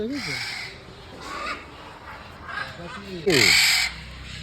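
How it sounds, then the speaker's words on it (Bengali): Several harsh, drawn-out calls of a black cockatoo ring out at intervals, the loudest near the end, with faint background noise between them. "হ্যাঁ কালো কাকাতুয়া এটা"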